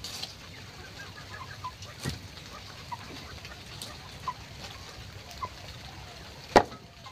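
Newly bought hens settling into a new coop give a few faint, scattered clucks over a low, steady background hush. There is one sharper knock near the end.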